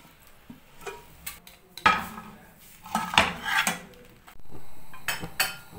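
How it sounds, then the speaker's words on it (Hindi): A pan covered with its lid is flipped over to turn a Chinese-style potato pizza, giving several close metallic clanks, knocks and scrapes of lid against cookware, with no talking. "तो इस तरह से ढक्कन लगा के जो है आप इसे उल्टा कर लीजिए।"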